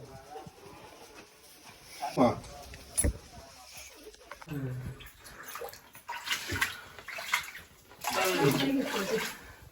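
Water splashes and patters inside a temple cave, in uneven bursts with louder stretches near the end, while people talk nearby.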